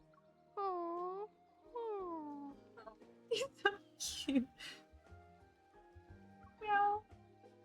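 A husky puppy named Howl in a video game lets out several drawn-out whimpering howls that rise and fall, close and fairly loud. Talk and other game sounds come between the cries, and one more howl follows near the end.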